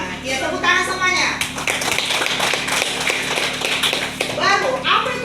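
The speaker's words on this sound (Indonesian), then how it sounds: "Iya, tepuk tangan semuanya." Fifth-grade primary school students in a classroom clap together in a quick, scattered burst, with children's voices chattering over and around the clapping throughout.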